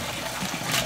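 Soaked sea moss and its liquid pour from a pot into a colander, giving a brief, steady watery rush and splash, close by with no talking.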